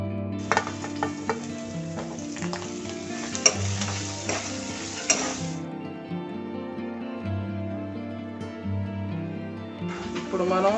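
Onions and green chillies frying in oil in a pan, a steady sizzle with stirring, close up, while a voice talks over part of it and background music plays.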